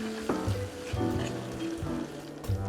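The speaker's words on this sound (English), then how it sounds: "We're going to start by toasting the ginger and the garlic with a pinch of salt" Ginger and garlic toasting with a pinch of salt in a pan for vegetable kung pao, a steady close sizzle and crackle with brief stirring scrapes, no voices.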